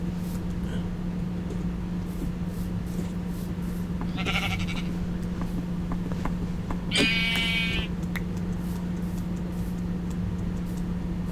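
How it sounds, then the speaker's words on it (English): Two distinct sheep bleats in a video game, a short one then a longer, louder wavering one, heard over a steady humming background drone with no talking. "Yeah, there's a sheep."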